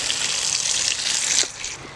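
Weed water gushes and splashes steadily into a garden container, a continuous broad pouring wash that tapers slightly near the end, with no voices over it.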